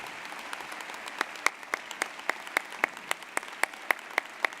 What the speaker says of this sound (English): please join me in giving, if you will, another round of applause to the Honorable Congressman James E. Clyburn